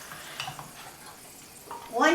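Potato pancake mixture goes into hot melted margarine in a frying pan, giving a brief sizzle and fry that swells near the end, with a voice speaking over it.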